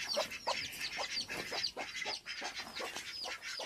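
Ducks and ducklings crowding in at feeding time, making close, busy, overlapping quacks, peeps and clucks in a continuous chatter, with no talk over it.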